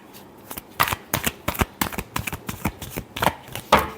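A deck of tarot cards is shuffled by hand close to the microphone. It gives a quick series of crisp, papery riffles and slaps, with a louder final snap near the end.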